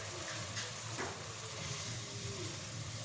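Half a kilo of mutton mixed and fried with onions in oil in a pan, a steady close sizzle with faint stirring scrapes, no talk.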